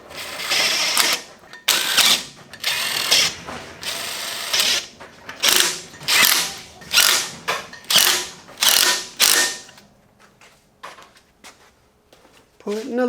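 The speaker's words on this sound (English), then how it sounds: "Putting the lug nuts on with an impact wrench." An impact wrench fastens lug nuts onto the wheel of a 2018 Dodge Ram 1500 pickup, firing a series of loud, close, rattling hammering bursts in quick succession, each about half a second long, then tapering off.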